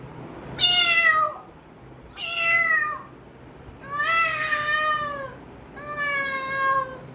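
A person imitates a cat, producing four drawn-out meows with gliding pitch, each separated by a short pause, close and clear against a quiet background.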